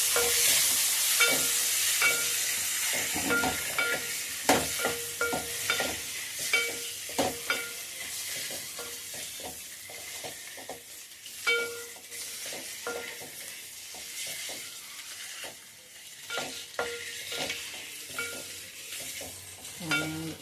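Boiled eggs fry in hot oil in a pan for egg kurma, giving a steady close sizzle broken by frequent scraping stirs and spoon clinks, with no talking.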